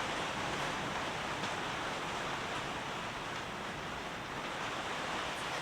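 Heavy rain and a rushing river in New Zealand blend into a steady, dense roar of broadband water noise, loud and unbroken throughout with no talk, heard from the shelter of a backcountry hut.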